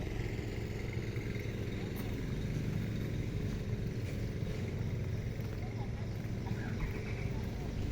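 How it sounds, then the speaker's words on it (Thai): Longtail boat engine on the Moei River, a steady low droning hum running throughout at moderate distance, with no clear pauses or surges. "เรือหางยาวเรือหางยาว"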